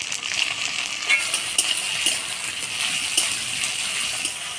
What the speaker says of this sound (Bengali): দিয়ে দিব টমেটো কুচি।